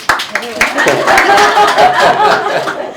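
Hands clap a few quick times near the start, sharp and close, then the sound gives way to steady chatter and soft chuckling from a small group of people talking.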